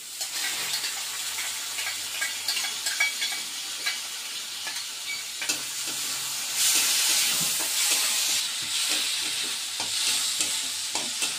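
A mango dish with fish sizzles and hisses in a pan after a splash of water, a steady loud fry with occasional stirring scrapes and a burst of steam partway through, no voices.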